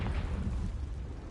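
A Confringo fire spell explodes in Hogwarts Legacy: one dull, booming blast whose rumbling tail fades over about a second, with no voices.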